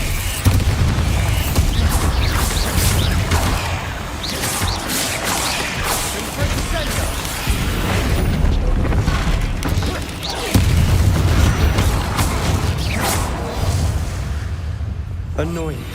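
Bombarda spell blasts in the video game Hogwarts Legacy, heavy booming explosions and crashing impacts recurring throughout amid dense combat noise, with voices speaking over the action.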